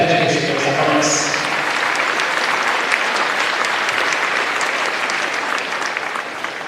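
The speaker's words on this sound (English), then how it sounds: "Please join me in applause for our officials and their commitment to education and athletics." A crowd in a gym at a Noblesville vs Carmel varsity girls basketball game applauds the officials, loud sustained clapping throughout, with a voice briefly audible at the start.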